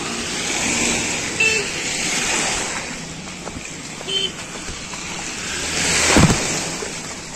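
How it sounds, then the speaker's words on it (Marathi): Floodwater of the Narangi river in Khed taluka, swollen by heavy rain, rushes across a road as a steady broadband roar with wind buffeting the microphone, swelling louder near the end. "आता थोडं इथे बघा पाणी इथे चालू झालंय"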